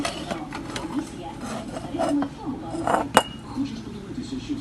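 Ceramic plates and salad bowls clink and scrape as they are handled on a store shelf, with light, irregular knocks and one sharper ring partway through, close and moderately loud.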